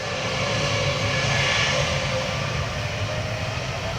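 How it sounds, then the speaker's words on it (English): An Airbus A320neo jet roars on takeoff at an airport, a loud, steady broadband engine rumble close by with no voices. "320 Neo off to Dunedin."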